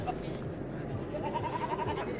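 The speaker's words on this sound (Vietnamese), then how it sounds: "Ở kia có một con dê con kìa, rất là đáng yêu các bạn." A newborn goat kid bleats in a series of thin, wavering cries at a crowded mountain livestock market in northwest Vietnam, heard over a steady murmur of voices and background talk.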